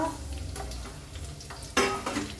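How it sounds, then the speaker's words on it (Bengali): Chopped ginger sizzles and is stirred in a hot pan. The steady frying hiss is broken by scraping strokes and a sharper utensil clatter near the end. "তখন আদা কুচিগুলো দিয়ে ভালো করে ফ্রাই করতে হবে"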